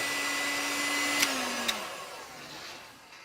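A hair dryer blows with a steady whirring hum, winding down toward the end, with two sharp clicks midway.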